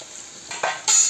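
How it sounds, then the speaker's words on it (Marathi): Spices frying in a pan while a vegetable dish is cooked, with a brief close sizzle and the scrape of stirring that rises sharply near the end. "हे बघा मसाले चांगले फ्राय झाले"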